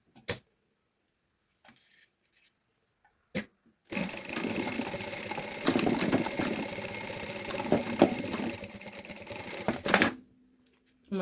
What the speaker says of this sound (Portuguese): E vamos passar uma costura em cima e outra costura em baixo.